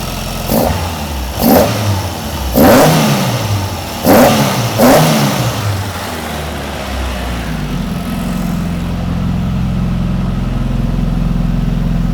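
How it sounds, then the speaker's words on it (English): A Mk2 Ford Escort's Galaxy engine revs up sharply about five times in a rhythmic series, then settles into a steady, rumbling idle up close, running a bit rich. "it actually sounds all right for a Galaxy engine."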